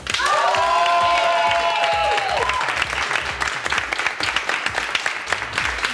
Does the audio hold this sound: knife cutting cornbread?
no